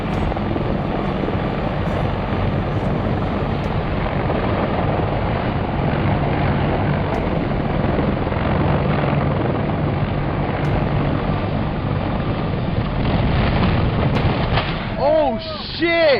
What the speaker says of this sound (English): CH-53 helicopter crash in Iraq.